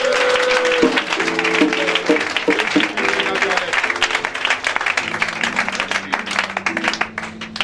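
A church congregation applauding and cheering for Jesus, dense sustained clapping throughout while organ or keyboard chords play underneath.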